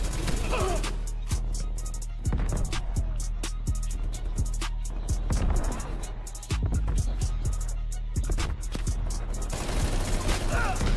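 Rapid automatic fire from the Bullfrog SMG in Black Ops Cold War, dense crackling bursts running almost continuously under someone talking, with brief gaps between strings of shots.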